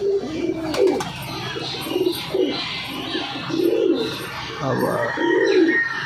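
Pigeons coo in repeated soft, throaty phrases close by, with a few chirps and a voice speaking Bengali over them.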